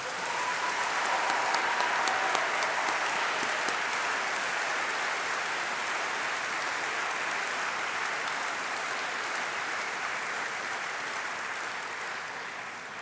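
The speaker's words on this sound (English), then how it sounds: "Let's give them a big round of applause." An audience at a university summer degree ceremony for the College of Arts and Law gives a sustained round of applause, dense and even, fading slightly toward the end in a large hall.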